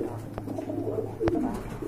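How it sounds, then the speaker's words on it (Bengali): A pair of fantail pigeons coos softly at close range, a low murmuring call with a couple of brief sharper sounds among it and steady low background hum. "খুবই চমৎকার এক জোড়া কবুতর"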